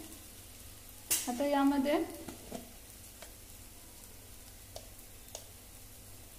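Ground masala paste fries in oil for a mutton rassa, a soft steady sizzle with a few light stirring taps; someone speaks briefly near the start.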